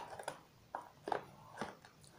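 Crispy fried chicken with rice crunches between the teeth, a few quiet separate bites and chews spread irregularly over a couple of seconds, close and soft.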